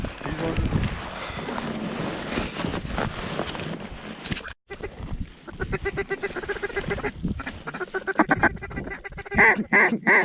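Mallard ducks quack and call during a snowstorm hunt, heard in bursts over steady wind and movement noise. Hunters talk excitedly throughout, and the sounds are near and fairly loud.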